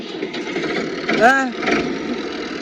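A tractor engine runs at a steady idle during a wheat harvest, a loud, even mechanical drone that continues while a voice briefly calls out over it.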